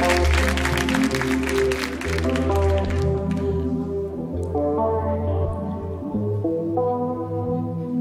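Studio audience applause on a Spanish-language afternoon TV show, a dense burst of clapping over music that thins after a few seconds as the music carries on.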